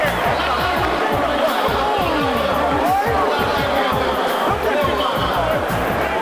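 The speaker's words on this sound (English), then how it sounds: "Harold Miner brought the crowd to their feet" Basketball arena crowd roaring and cheering after a dunk by Harold Miner, a dense, loud, continuous wall of many voices with a low rhythmic thumping underneath, steady throughout.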